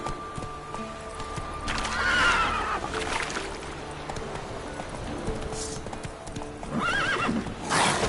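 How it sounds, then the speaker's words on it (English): Hooves pound rhythmically as a horse gallops in The Witcher 3 video game, with whinnies and snorts over a busy outdoor game ambience, fairly loud throughout. "Run, Roach. Not so fast, Roach"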